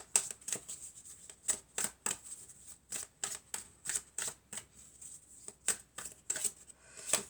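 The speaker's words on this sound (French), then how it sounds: "Alors je vais prendre encore une ou deux cartes pour en savoir plus." Tarot cards shuffled and drawn at a table during a reading: a quick, soft run of crisp riffling snaps and flicks, close and fairly quiet, repeating at an uneven rhythm.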